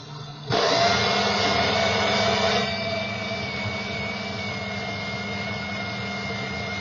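A Tyco slot car motor from a white and red Trans Am spins up sharply on a dyno, giving a loud whirring whine that stays steady at a slightly lower level after a brief peak. It is close and continuous.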